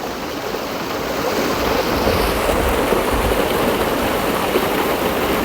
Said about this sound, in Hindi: देखिए कितना सुंदर साफ़ पानी कल कल करके बहता हुआ।